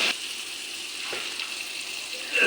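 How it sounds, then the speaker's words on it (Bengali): Spices tempering in hot oil in a pan for a vegetarian cabbage, paneer and potato dish, a steady soft sizzle with a few faint scrapes and a brief louder burst at the end. "ভালো করে ফোড়নটা কষে যাক"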